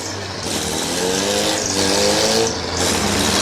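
Demolition derby race car engine running rough with an odd, uneven tone at a firemen's festival in Greenwich, a steady loud roar with crowd and arena noise throughout.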